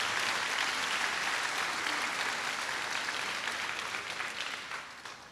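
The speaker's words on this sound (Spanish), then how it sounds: "Dámosle un aplauso al Señor, porque creemos que eso va a ser una realidad." A church congregation claps steadily and densely for several seconds, loud at first and then gradually tapering off toward the end.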